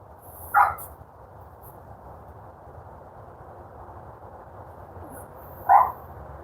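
A dog barks outdoors, two short isolated barks several seconds apart, somewhat distant, over a quiet steady background hiss.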